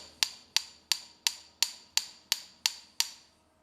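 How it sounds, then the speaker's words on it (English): A small hammer strikes a seized part on a 1978 John Deere 312 garden tractor nine times in a steady rhythm, each sharp metallic tap ringing briefly, close and clear with no talk. "So I got this, my little hammer. I'm gonna hit on this."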